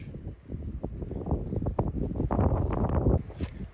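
Strong wind of about 32 km/h gusts across a muddy hiking trail on the Isle of Man, buffeting the microphone in low, rumbling, uneven surges that swell louder toward the end.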